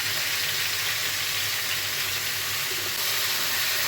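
Pieces of brinjal fry in hot oil, a steady, dense, close hiss and sizzle that runs unbroken the whole time, with no talk.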